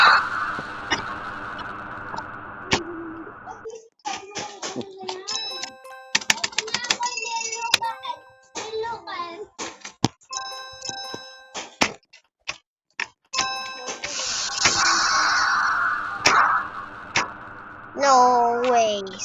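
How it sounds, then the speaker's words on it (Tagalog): Tapping on a mobile phone's noisy on-screen keyboard, bursts of quick sharp clicks in irregular clusters separated by pauses, loud and close, with a few electronic tones and brief voice sounds between. "Maingay po yung keyboard natin"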